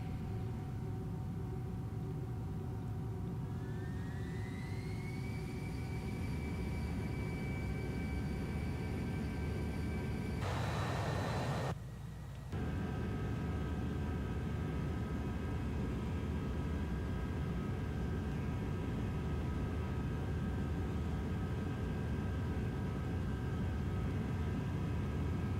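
Airbus A321 jet engines in a flight simulator spooling up for takeoff, a rising whine that climbs in pitch and then holds steady over a constant low roar, with a brief burst of broadband noise midway.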